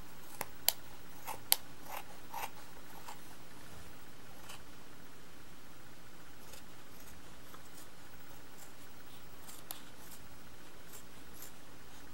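Scissors cut through fabric for a sewn lighter case, giving a few sharp snips early on and then long stretches of quiet, soft trimming close by.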